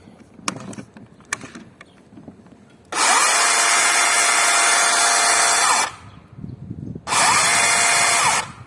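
A DeWalt cordless saw cuts in two loud, steady bursts, about three seconds and then one and a half seconds long, after a few sharp clicks and handling noises.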